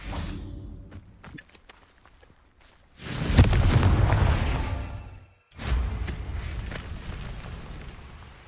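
Two heavy blasts from the Confringo spell in Hogwarts Legacy, each a loud roaring burst lasting a couple of seconds, back to back after soft footsteps.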